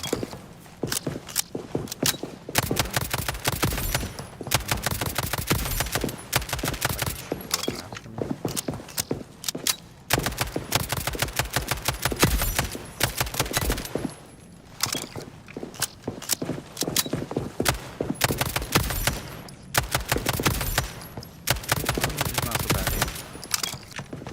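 A semi-automatic gun fires in the ALARA Prime shooter game, a long run of sharp, rapid, closely spaced shots with brief pauses between bursts, loud and close, with mechanical clatter mixed in.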